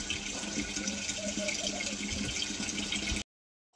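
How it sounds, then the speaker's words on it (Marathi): Water runs steadily from a tap into a container, a constant rushing hiss that cuts off abruptly near the end. "पाणी भरून घेते"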